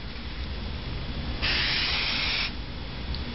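A drug detection aerosol sprays onto test paper in one short, loud hiss lasting about a second, with quiet room noise before and after.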